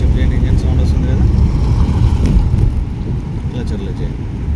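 A car engine runs after a gear shift during a driving lesson, a steady low rumble with road and wind noise inside the car, while an instructor talks over it.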